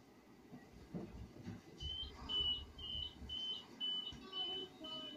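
A faint, low rumble of a Class 171 two-coach train running on rails, with a soft, repeating high squeal riding above the steady noise.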